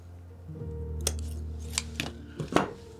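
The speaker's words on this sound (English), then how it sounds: "Now I want to cut that as close as I can to the crimping bead" Scissors snip wire close to a crimping bead on a clothespin garden star pendant, a few sharp separate cuts spread over a few seconds against a low steady background hum.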